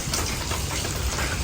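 Heavy rain falls steadily as a dense, constant hiss with no breaks, loud and close throughout.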